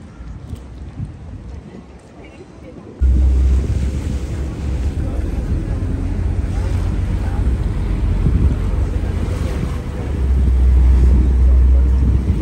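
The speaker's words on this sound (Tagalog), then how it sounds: "Nakasakay na kami sa bangka or sa boat." A boat engine drones under strong wind buffeting the microphone, with water rushing steadily past on a boat ride in Venice, Italy; the roar jumps louder after a few seconds and stays constant.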